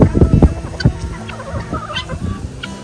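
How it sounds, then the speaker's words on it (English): Guinea hens on a farm field call in a quick run of harsh, clucking cries, fairly close and loud at first, then continuing more softly. "Those are the guinea hens over there."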